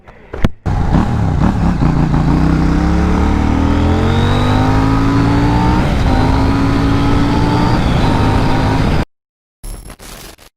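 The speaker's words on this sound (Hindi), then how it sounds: "So it's time to ride this KTM Duke 790." A KTM Duke 790 motorcycle engine revving and climbing in pitch while riding, loud and close, running steadily for several seconds before cutting off abruptly.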